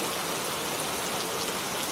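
Heavy monsoon rain pours steadily in a rural setting, a dense, even hiss of falling water with no breaks, close and enveloping throughout.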